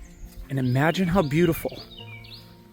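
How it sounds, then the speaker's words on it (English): Small birds chirp faintly outdoors in a suburban backyard in Ashland, near a babbling brook. Their short high tweets sit beneath a person talking close by. "But you hear the birds chirping?"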